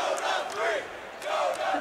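A crowd at a Dota 2 all-star showmatch at The International 2015 roars and shouts in rising and falling waves, loud and sustained.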